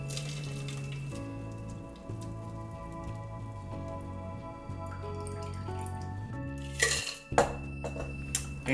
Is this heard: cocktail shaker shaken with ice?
yes